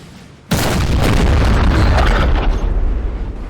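A 6-pounder cannon fires during a Napoleon Total War battle in France, a sudden loud boom followed by a broad roaring rumble that stays heavy for about three seconds before thinning slightly.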